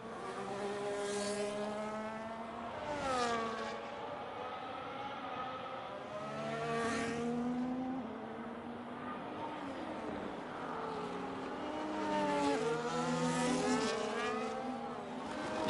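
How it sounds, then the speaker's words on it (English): A race car laps the Jeddah street circuit, its engine rising and falling through repeated upshifts and downshifts as it brakes for corners and accelerates out, loud and continuous throughout with no talk. "As Robin's now rounding the final corner. And will begin his lap"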